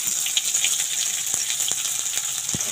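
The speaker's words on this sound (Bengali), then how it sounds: "বড় সাইজের দুটো পেঁয়াজ কুচিয়ে রেখেছি, সেটা দিয়ে দিচ্ছি।" Two large chopped onions frying in a pan after the tempering, giving a steady, close, hissing sizzle with a few faint knocks of stirring.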